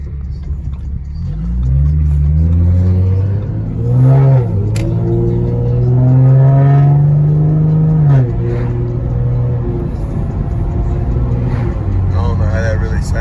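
A 2014 Mustang with a Roush axleback exhaust revs repeatedly, rising and falling engine pitch with sustained climbs and a few pops as it drops back, loud and close with the windows down.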